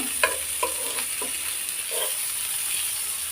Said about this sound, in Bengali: সবগুলা একটু গোল্ডেন কালার করে আমি ভাজি করে নিব